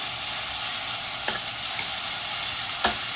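Pork pieces frying in rendered fat until golden brown and crispy, a steady close crackling sizzle with a couple of brief stirring scrapes.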